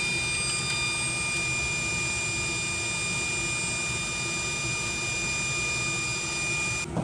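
Propane or oxy torch flame heating a seized bolt on the rear strut of a Nissan Altima, a steady roaring hiss with a faint high whine, continuous and close for the whole stretch, no voices.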